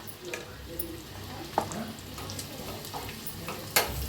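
A spice tempering of garlic, red chilli powder and turmeric crackling in very hot oil with the gas turned off, a steady close sizzle with a few sharp pops and light stirring, no talk.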